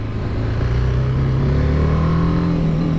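A quiet 300cc street motorcycle on its stock exhaust accelerates, its engine hum rising steadily and staying loud and close the whole time, with no voices over it.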